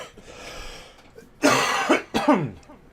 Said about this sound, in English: Actually, I'm surprised it's the first time I've coughed.